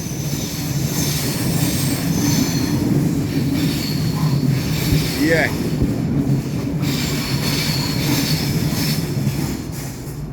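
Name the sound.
cement freight train passing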